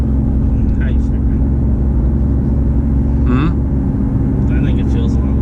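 A 2015 BMW i8's three-cylinder engine hums as a steady, loud low rumble filling the cabin throughout, with a person's voice briefly heard over it.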